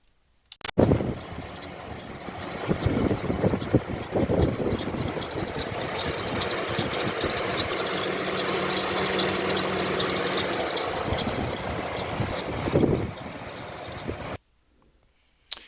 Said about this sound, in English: it had a very, very, very bad engine noise